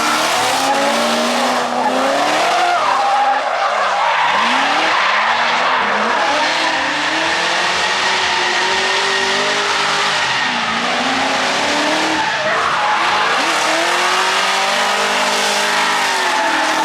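Drift cars run tandem around a dry track at a drift event, their tires squealing in long continuous howls over revving engines, loud and sustained throughout.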